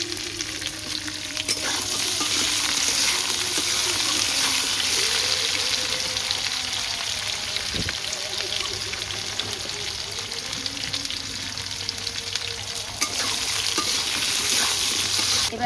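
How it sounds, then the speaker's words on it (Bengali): Potato pieces frying in hot oil in a pan for a Bengali rohu fish curry, a loud continuous sizzle with occasional stirring scrapes throughout. "আগে আলুগুলো ভেজে নিই।"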